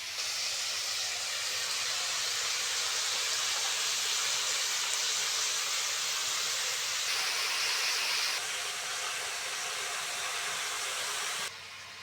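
Chopped, washed khesari greens sizzling in a pan with already-fried beans, potato and eggplant, a dense steady hiss close up that holds evenly and shifts slightly in tone as it goes.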